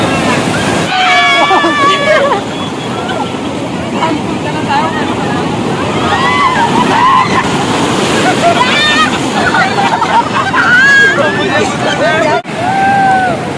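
Surf breaks steadily along Hawksbay beach in Karachi on a hot day, wind buffeting the microphone, while a dense crowd babbles continuously and close throughout.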